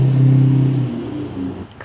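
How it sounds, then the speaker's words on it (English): A loud truck on the road rumbles low and steady nearby, fading somewhat toward the end, heard during a cross-country bicycle trip. "what is up with these loud trucks?"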